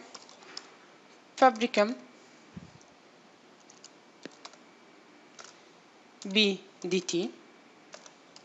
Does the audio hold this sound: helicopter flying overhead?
no